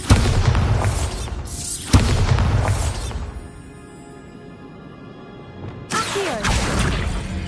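A Bombarda spell in a Hogwarts video game sets off repeated booming explosions, heavy and close with crashing debris, then a quieter lull before another loud blast.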